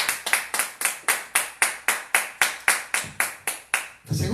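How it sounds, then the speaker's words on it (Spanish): Steady, evenly spaced hand claps from a church congregation ring out one after another, about four per second, crisp and close, ending with a low murmur. "Denle un fuerte aplauso a nuestro Dios."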